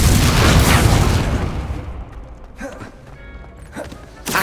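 A fire spell blast cast in the Hogwarts Legacy video game, a loud broad whooshing roar that fades over about two seconds, followed by scattered quieter impacts and crackles.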